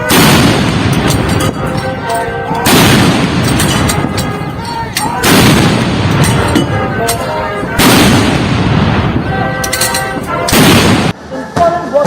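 Ceremonial artillery fires a 21-gun salute at the Republic Day parade on Rajpath, Delhi: heavy cannon booms land roughly every two and a half seconds, loud and reverberant, each rolling out before the next blast.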